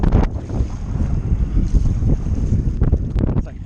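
Strong gusts of roughly 30 miles per hour roar across an open ranch during a wind storm, buffeting the microphone with loud, continuous rumbling and no talk.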